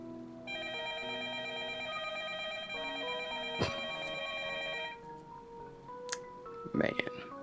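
A telephone rings in the snowstorm scene of the video game Up All Night, a steady electronic trilling bell repeating over several seconds against background music, with brief sharp clicks near the end.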